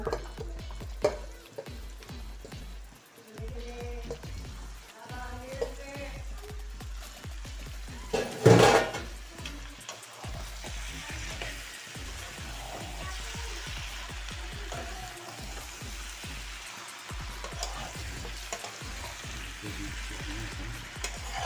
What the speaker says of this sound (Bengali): এখন আমি এবারে এখন ভেজে নিচ্ছি সবজিগুলো দিয়ে